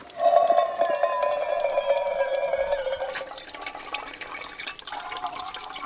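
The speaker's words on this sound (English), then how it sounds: "Look at how much water's pouring." Water trickling steadily from rocks into a cup outdoors, a continuous close splashing pour that softens and thins toward the end.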